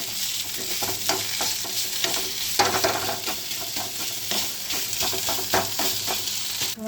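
Food sautés in a pan for homemade aloo chop, a constant close sizzle under regular scraping and knocking strokes of a spatula, steady throughout with occasional louder scrapes.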